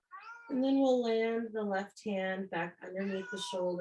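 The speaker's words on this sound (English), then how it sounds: "I think the kitty's ready to go back in the house. I don't know if you can hear her crying." A house cat cries to be let back indoors with loud, drawn-out meows, while a calm voice gives yoga instructions over the top.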